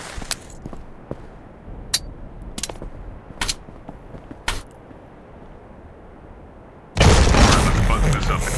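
Gunfire from the VR shooter Tactical Assault VR: a scattered series of sharp, separate shots over a quiet background, then a sudden loud, sustained burst of firing and noise for the last seconds.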